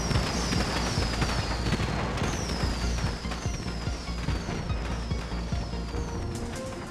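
Fireworks going off in the shooter video game Far Cry 3: Blood Dragon, a steady run of crackling bursts and whistling rising streaks under a dense layer of game noise, moderately loud.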